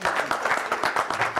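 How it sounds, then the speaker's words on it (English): Audience applause at a charity gala in a London hotel ballroom, a brief burst of steady, moderately loud clapping from a crowd. "Please put your hands together for him."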